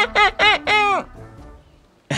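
A cartoon chicken clucks three times in quick succession, loud and close, then falls quiet before another sound begins at the very end.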